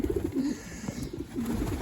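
Homing pigeons coo steadily in a series of soft, low, rolling calls close by, with no speech.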